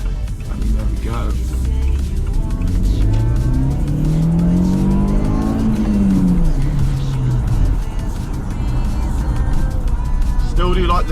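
A Volkswagen Golf GTI's 1.8 turbo engine with a ram air filter revs up to a climbing whine and then falls back, loud and close, over a constant engine drone.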